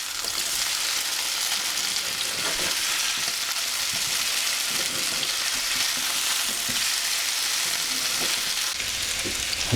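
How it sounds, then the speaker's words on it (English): Potatoes for German fried potatoes (Bratkartoffeln) sizzle steadily in a pan as they are turned over, a close, continuous fry with scattered stirring scrapes and no talking. "These potatoes have been frying now for 4 minutes."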